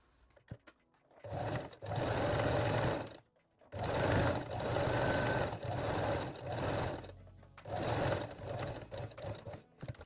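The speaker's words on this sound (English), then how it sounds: "Set your machine to zigzag stitch and gently stretch the elastic while sewing." A sewing machine runs zigzag stitches along stretched elastic in three long, loud bursts with short pauses between them, its motor whirring and the needle thumping rapidly up close.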